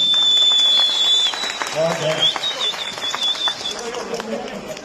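Audience applause at a wedding celebration, a burst of clapping with voices talking over it and a high sustained tone running through, fading into scattered claps.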